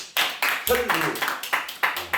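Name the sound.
group clapping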